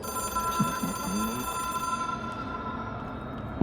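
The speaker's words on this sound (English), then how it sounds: "It is a phone." A telephone rings in the video game Control, a steady electronic bell tone held through the whole stretch under a low game ambience, with a brief thump near the end.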